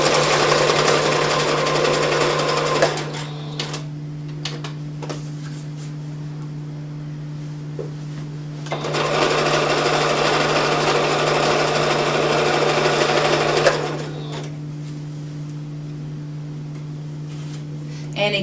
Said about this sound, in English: And we're just going to sew the last edge here.